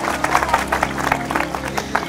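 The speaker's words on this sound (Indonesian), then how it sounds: "Tepuk tangannya mana dong?" An audience at an Indonesian talk gathering claps in uneven bursts, with a low steady hum beneath and a mix of voices and crowd noise under the clapping.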